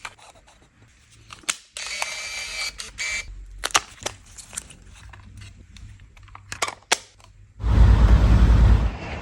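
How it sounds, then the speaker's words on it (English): Canon EOS 620 35mm SLR being loaded with expired Kodak Elite Chrome slide film: a run of sharp mechanical clicks, latches and handling knocks, then a steady loud whirring burst of the motor winding the film on near the end. "I'm going to load it up into my EOS 620 and give it a go"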